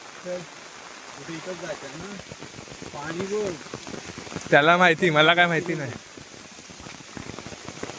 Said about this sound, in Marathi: हे बघा पाऊस तर अजून चालू आहे